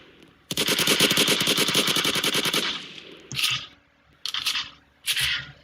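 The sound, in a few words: gunshots in a video game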